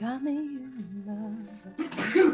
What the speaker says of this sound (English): To whoever sneezed.